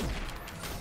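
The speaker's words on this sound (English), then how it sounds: "That's a bomb." A bomb explodes in the co-op action game Full Metal Furies, a dense, rumbling low boom with broad crackling noise that fills the whole moment and fades only slightly.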